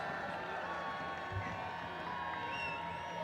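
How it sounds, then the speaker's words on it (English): Spectators in the stands cheer at a women's under-23 ultimate frisbee final between the USA and Japan. The roar is distant and sustained, with tonal horn-like lines, under a commentator's voice. "Crowd loving that."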